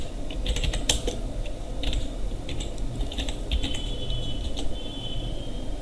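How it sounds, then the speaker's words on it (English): Computer keyboard typing runs for several seconds, with quick irregular clicks and taps up close over a low steady background hum, no talking. "And then you have to type studio style."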